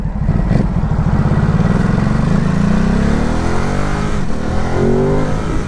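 A 2020 Ducati SuperSport motorcycle with a cable clutch pulls hard on a test ride. Its engine note climbs steadily and loudly through the revs, close and continuous, with no talking.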